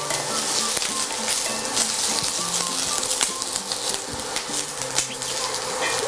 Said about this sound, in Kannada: ಆನಿಯನ್ನು ಕ್ಯಾಪ್ಸಿಕಮ್ಮು ಚೆನ್ನಾಗಿ ಡೀಪ್ ಫ್ರೈ ಆಗಬೇಕು